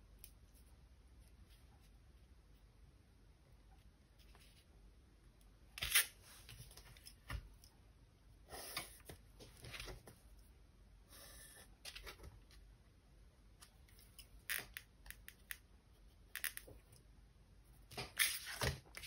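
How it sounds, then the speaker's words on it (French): Scissors cut a paper strip for a zigzag template in a quiet room, with scattered close snips and rustling bursts separated by pauses, faint overall and free of talk. "je vais couper ma bande."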